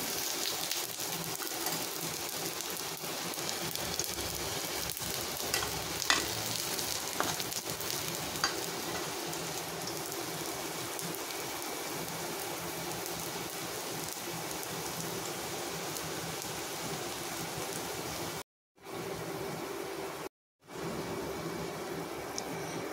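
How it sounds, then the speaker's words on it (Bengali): Vadas fry in oil over medium heat, giving a steady, soft crackling sizzle throughout with occasional louder pops, heard alone and close, broken by two brief silent gaps near the end. "দেখুন বন্ধুরা হয়ে গেছে বড়া ভাজা"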